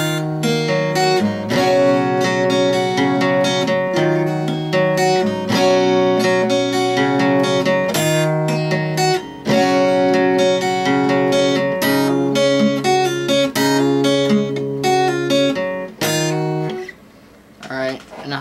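A guitar tuned a half step down plays the opening of a song, a steady run of picked chord notes, loud and close, with no talking, fading out near the end.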